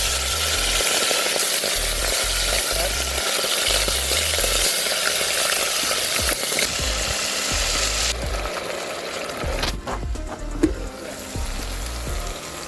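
Kidney sizzles and fries in a hot pot for a Jamaican breakfast, a loud steady crackle with occasional stirring scrapes and clatter close by.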